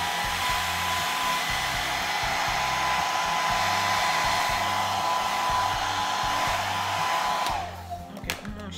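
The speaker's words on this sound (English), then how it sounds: "On fait un petit blow dry" A hair dryer blows hair while a wig is being fitted, a steady loud whooshing hum with a faint whine, running continuously before abruptly cutting off near the end, leaving light handling noise.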